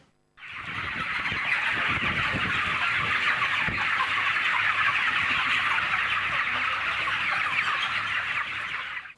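A dense flock of chickens on a large poultry farm in Hâncești clucks continuously, a loud, busy chorus of overlapping clucks filling the barn for several seconds with no talk.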